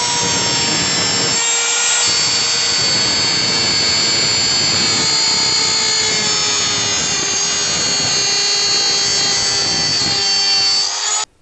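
A GAOCHENG GC-T036 trimmer router runs at a loud, constant high-pitched whine while cutting a straight groove in wood along a guide, holding steady throughout and cutting off abruptly at the end.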